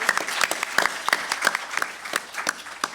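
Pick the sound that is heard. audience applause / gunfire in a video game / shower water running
audience applause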